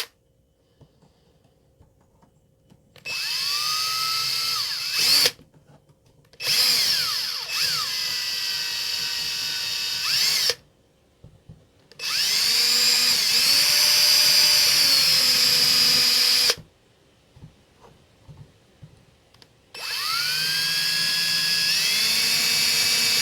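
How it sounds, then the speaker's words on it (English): Power drill boring holes into a Halloween pumpkin, several high whining bursts of a few seconds each separated by short pauses, close and loud. "I'll probably use a drill and drill a few holes around the top"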